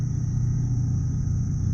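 Frogs call at night by a river, forming a steady, high, unbroken chorus over a continuous low rumble of nearby highway road work.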